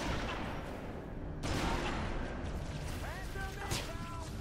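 Gunfire in the shooter Halo 3: ODST, bursts of shots on Mombasa streets mixed with other loud game effects and a voice.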